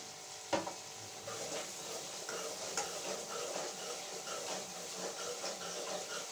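Masala roasts in a pan under a fairly quiet, continuous sizzle, with a spoon scraping and clinking against the pan in a loose repeated rhythm and one sharper knock early on.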